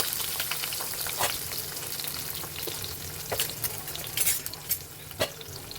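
Onions and green chilli sizzle in hot oil in a pan for a Tamil-style fish curry, a steady frying hiss broken by several sharp clinks and scrapes of a stirring spoon.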